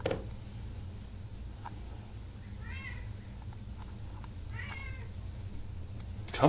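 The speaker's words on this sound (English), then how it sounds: "He's a Bengal cat." A Bengal cat meows a few times at moderate distance, short rising calls separated by quiet pauses over a low background hum.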